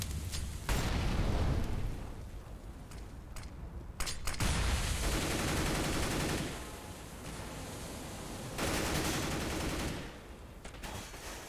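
Grenades and an incendiary thrown in Counter-Strike: Global Offensive, a loud, dense stretch of gunfire and explosive bursts that swells and drops in several waves with no voices.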